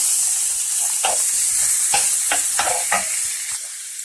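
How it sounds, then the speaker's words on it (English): Celery, onions and bell peppers sauté in a pan with a bright continuous sizzle, broken by several sharp scraping stirs of a utensil, close and fairly loud with no talking. "We're just going to season those or saute those until the onions are glistening."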